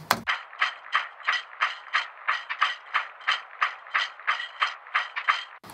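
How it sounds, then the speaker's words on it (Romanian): A muddy, low-pitched shaker loop from a Splice sample pack plays alone, a steady run of about two dozen even, rhythmic shakes that stay loud and close throughout. "Primul loop de shaker-e sună cam așa."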